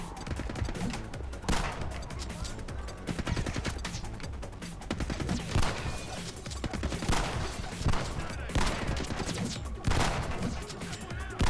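Shotgun blasts from the Xbox 360 shooter The Club, firing repeatedly in an irregular rhythm of loud, sharp bangs layered over busy game noise and gunfire.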